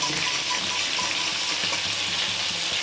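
Food fries in hot oil during a morning cooking session, giving a loud, continuous, dense sizzle with no pauses and no talking.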